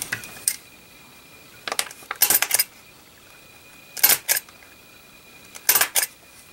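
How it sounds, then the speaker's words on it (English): A stapler punching through the pages of a handmade journal book, several separate clacking staple presses in groups, close and crisp. "And we're just going to staple this."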